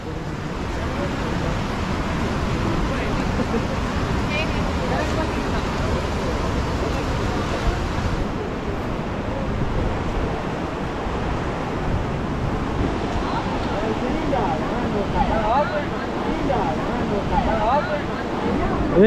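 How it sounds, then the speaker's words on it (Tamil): Chunayamakkal waterfall in Kerala roars with a loud, continuous rush of falling water close by, a steady broadband wash with people talking over it. "இங்க இருக்குங்க ஃபால்ஸு"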